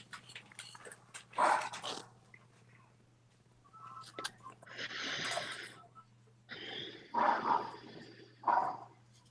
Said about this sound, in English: My dog is going crazy barking outside.